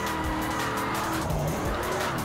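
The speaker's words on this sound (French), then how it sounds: "Ouais, là, les pneus, ils ont grincé." Tires on a Ford Mustang RTR squeal loudly and continuously while it drifts in Project Cars 2, a harsh skidding screech layered over a roaring engine, close and with no talk.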